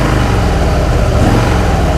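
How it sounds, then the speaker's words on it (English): A Harley-Davidson Fat Boy motorcycle engine idles close by at 1000 RPM, a loud, steady low rumble with no change in pitch. "So right now the engine is idling at 1000"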